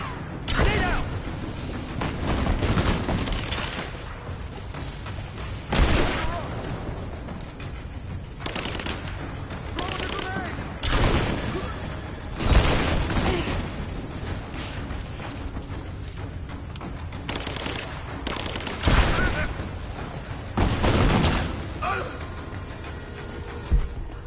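Explosions and gunfire in a Rise of the Tomb Raider battle against Trinity in the Geothermal Valley: heavy blasts recur every few seconds amid combat noise, with occasional voices.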